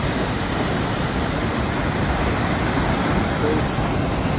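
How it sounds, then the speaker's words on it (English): Steady broadband rush of a waterfall on the Cascade River near Lake Superior, heard from a bridge above, constant and fairly loud with no breaks. "There's a pleasant surprise, waterfall."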